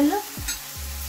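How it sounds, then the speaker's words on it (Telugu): Onions frying with green chillies in a hot pan, a steady sizzle with a couple of stirring scrapes from a utensil, close and alone without talk. "పచ్చిమిరపకాయలు వేగాక ఉల్లిపాయలు వేసుకుందాం."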